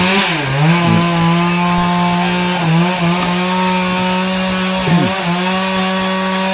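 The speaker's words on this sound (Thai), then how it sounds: "เลื่อยไม้เฮ็ดเฮือนเนาะก็เลยว่า เสียงดังรบกวนหน่อยนึง" A chainsaw cuts timber for building a house, its engine droning loud and close, with pitch dips as the blade bites into the wood several times.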